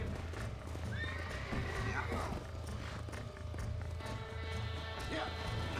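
Galloping hooves pound steadily under a horse's neighs and whinnies in Red Dead Redemption game audio, with voices talking over the action.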